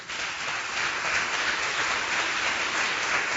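A congregation claps their hands together during a church worship service, a dense, steady wash of applause that stays even and fairly loud throughout, with no voices standing out.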